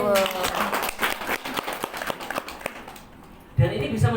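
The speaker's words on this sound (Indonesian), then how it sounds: "Tepuk tangan." Scattered hand claps from a small group at a business management meeting in a homestay, fading out after a few seconds with speech at the start and a voice returning near the end.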